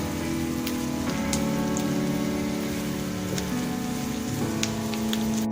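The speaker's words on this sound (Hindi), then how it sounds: "प्याज हमारी फ्राई हो रही है" Onions fry on a tawa for qeema naan, a dense, even sizzle like steady rain with faint crackles and a low background hum throughout.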